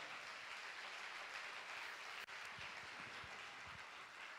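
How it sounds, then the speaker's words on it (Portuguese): Church congregation clapping in applause, a steady, fairly distant wash of hands with a few low thumps near the end. "Uma salva de palmas para o Senhor Jesus."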